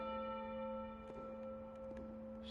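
In the video game Puzzle World Inception, a bell rings with a sustained, faint, steady tone that hums on quietly throughout.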